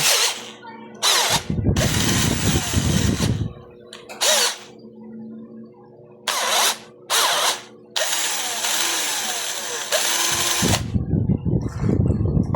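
Electric drill whirring in repeated short bursts as it spins the shaft of an electric fan motor, loud and close, starting and stopping several times with quiet gaps between.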